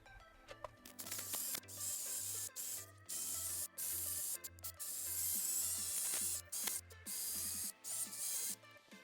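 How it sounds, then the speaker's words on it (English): An electric screwdriver fitted with metal grinding tips cleans the rear rotor mounting surface of a 2006 Volkswagen Golf Mk4, running in short, fairly quiet whirring bursts with hissy abrasive scraping between pauses. "I'll be cleaning the surface mounting area with some metal grinding tips connected to my electric screwdriver"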